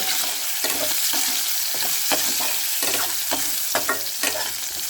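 Onions and green chilies fry in a hot pan while a spoon stirs them, a constant bright sizzle broken by repeated scraping strokes of the spatula, close and clear with no talking.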